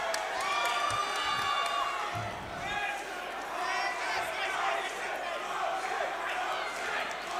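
A crowd at a local Coastal Combat boxing event cheers and shouts for hometown fighter Jayden Walsh against Caleb Miller, a sustained roar with whoops and whistles under a ringside commentator's talk.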